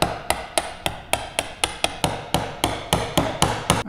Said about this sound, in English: we're going to get the chisel that's too small and we're just going to work our way back to those lines very carefully